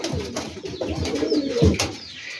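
A Rajshahi Giribaz pigeon of the dense-feathered type coos close by, a few soft, throaty rolling calls in quick succession.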